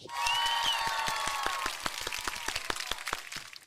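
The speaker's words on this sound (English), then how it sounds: "one final round of applause" A small audience gives a round of applause after a talk, with dense clapping at first that thins into scattered individual claps, fairly distant and moderately quiet.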